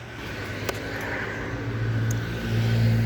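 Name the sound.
car engine running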